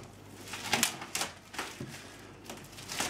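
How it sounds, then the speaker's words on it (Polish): Plastic shrink-wrap foil ripped off a boxed Diablo III game, several short crisp crackling tears in uneven bursts, close and fairly quiet. "Zdzieram folijkę."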